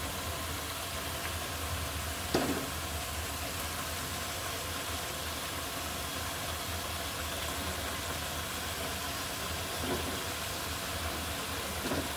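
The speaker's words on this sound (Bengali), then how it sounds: "এবার বাঁশকরল দিয়ে কিন্তু ভালো করে একটু কষিয়ে নিতে হবে" Bamboo shoots with beef and chicken are stir-fried in a pan, giving a steady, even broadband sizzle and hiss that runs throughout with no talking.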